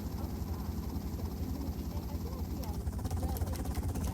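Continuous low rotor and engine drone of a helicopter hovering in the video game GTA Vice City, steady and moderately loud throughout with no speech.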